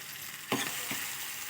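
Salted food frying in a pan gives a soft, steady sizzle close by, with a couple of quick stirring scrapes near the middle and no one speaking.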